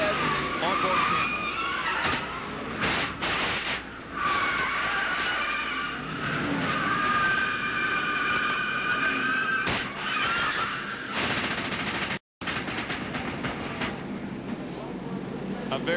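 Violent race car crash in a Primestar 500 race, recorded by an onboard camera on a car hit hard on the passenger side: a loud, continuous roar of engine and scraping with tire-like squeal, a brief dropout near the end, then the noise resumes.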